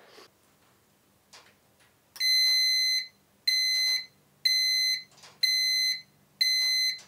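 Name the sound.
heat treat oven controller alarm at target temperature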